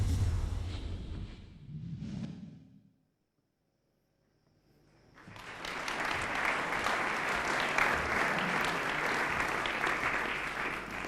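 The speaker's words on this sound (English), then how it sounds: "I kindly ask you now to applaud once again to our dear friends from Poland" An audience at the Men's EHF EURO 2018 handball qualification draw ceremony breaks into loud, sustained applause after a brief whooshing sound and a moment of near silence.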